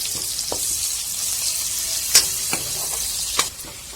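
Onions fry in a pan with a steady, close sizzle, broken by a few sharp scrapes and clicks of stirring.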